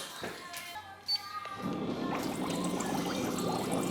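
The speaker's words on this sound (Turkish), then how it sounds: "Şu an bubble sistemde suya ozon vermeye başladı." An ozone bubble system in a dog spa bath starts up and sends a steady, rushing hiss of bubbling water that follows a brief thump and continues on its own.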